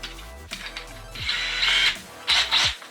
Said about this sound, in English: I'm going to chuck it up in my cordless drill